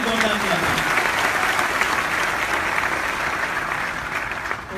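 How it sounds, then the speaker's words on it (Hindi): Loud, sustained applause from a large crowd, steady clapping throughout with no break. "जोरदार तालियां"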